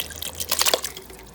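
Canned diced tomatoes with their juice pouring into a pot of vegetable soup, a brief close wet splash and glug lasting about a second.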